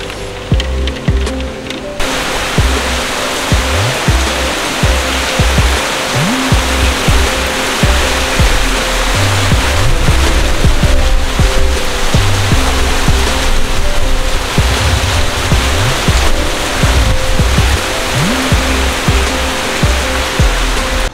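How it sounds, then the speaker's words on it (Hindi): Heavy rain driven by strong wind, a dense continuous roar of water and gusting air, loud and close for the full length with no talk. "बारिश हो रही है और हवा भी इतनी भयंकर चल रही है"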